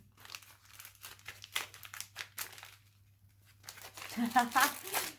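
Paper wrapping on a Christmas gift crinkles and tears in bursts as it is unwrapped, with a louder stretch of crumpling near the end and a steady low hum beneath; a person talks briefly.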